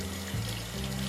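Water running from a tap into a bottle during a bicycle tour in Romania, a steady close rushing flow with a rising filling tone.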